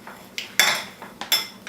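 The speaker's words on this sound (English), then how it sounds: "I'm going to grab the pans that I've already greased" Greased metal loaf pans being handled in a home kitchen while baking banana bread, giving several sharp clattering knocks and scrapes in quick, uneven succession.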